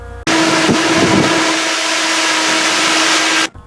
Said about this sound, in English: That's the sound of a piercing nozzle going through an aircraft to save lives.